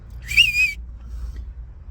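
A single loud fingerless whistle, made with the lips and tongue alone, rises into a sharp piercing tone for about half a second, then stops, leaving quiet room noise.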